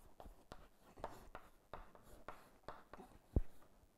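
Marker or pen strokes scratching across a board or tablet during an economics lecture, a steady series of short, faint strokes with brief pauses between them.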